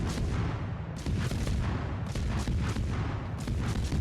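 HE shells firing from a Tier 10 F. Sherman destroyer in World of Warships: a steady rumble of gunfire with sharp booming volleys roughly every second, loud and heavy, no talk.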